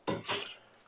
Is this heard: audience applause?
no